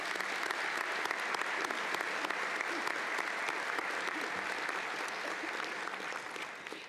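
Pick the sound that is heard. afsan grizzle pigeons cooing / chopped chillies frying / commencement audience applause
commencement audience applause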